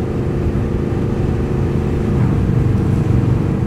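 A Triumph Speed Twin 1200 motorcycle cruises on a motorway with a constant loud roar of engine and wind. The drone stays even, with a slight swell near the end.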